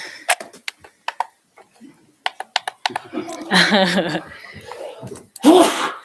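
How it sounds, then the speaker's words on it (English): A sharp, loud sneeze bursts out near the end at a city council meeting, after a run of light clicks and taps and some brief vocal noise. "I did sneeze on this arm"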